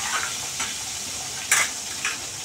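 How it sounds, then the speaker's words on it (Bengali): Pointed gourd, added with some aubergine, frying in a pan: a steady close sizzle with a few sharp scraping strokes of a spatula, one louder than the rest, and no speech. "এবার এটা আমি একটু ভেজে নেবো"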